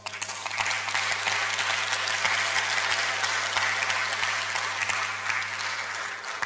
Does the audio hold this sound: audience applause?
yes